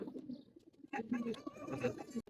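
A domestic pigeon kept by a pigeon breeder coos close by in soft, low, repeated throaty notes, mixed with a person talking over it.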